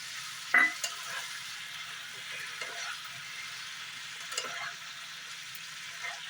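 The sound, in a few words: sprouted chickpeas being stir-fried in curry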